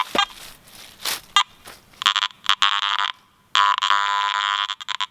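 Piercing electronic tones from a metal detector signaling iron at a 1700s New England cellar dig, several short chirps then two sustained high-pitched signals, with faint rustling between them.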